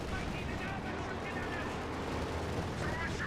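Rocket artillery barrage from a Panzerwerfer in Company of Heroes 2, a dense, continuous rumble of explosions and gunfire filling the whole stretch at steady loudness, with a voice talking over it.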